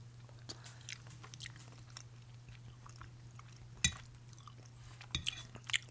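Quiet close chewing of beets as an ASMR snack, soft wet munching with a few sharper crunchy bites near the end, and no talking.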